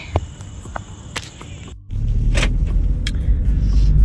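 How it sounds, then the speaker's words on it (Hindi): A car drives at night after leaving a market in Gurgaon, its engine rumbling steadily and growing louder as it gets moving, preceded by brief clicks and a window motor. "अब मैं गाड़ी मोड़ती हूँ"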